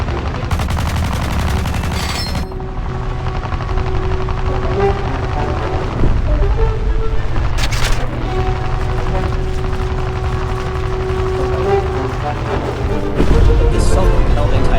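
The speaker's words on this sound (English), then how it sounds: "Then I start firing some rounds into the enemy aircraft" Rapid bursts of gunfire from War Thunder Mobile, the tank game, loud and dense, mixed with a continuous engine drone and occasional explosive impacts.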